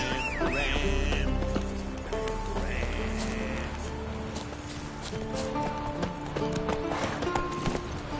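Roach, a horse in The Witcher 3, moves along with clear clip-clop hoofbeats amid game music, with sheep bleating nearby and a faint neigh.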